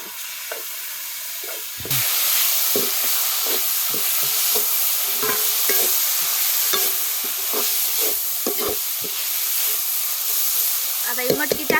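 Sprouted moth beans tipped into a pan of frying onion masala, giving a sudden loud, steady sizzle and hiss with scraping stirs and spoon knocks, and a voice speaking over it.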